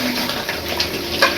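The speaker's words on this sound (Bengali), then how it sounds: "এখন আমি একটু জল দিয়ে দেবো।" Water pours into a pot of chicken curry with potatoes, a brief steady splashing gush heard close up with no talking.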